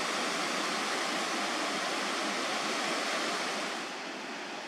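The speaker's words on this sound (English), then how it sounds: "Lundbreck Falls is in southern Alberta and is the largest waterfall on the Crow's Nest" Lundbreck Falls on the Crowsnest River in southern Alberta roars as a dense, steady wash of falling water, heard close and loud with no voices and easing slightly near the end.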